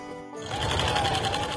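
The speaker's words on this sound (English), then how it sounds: "If Campbell could be on that sewing machine 24/7, he would." A home sewing machine starts up after a brief quiet moment and runs at a fast steady stitching rhythm, close and moderately loud, with no talking.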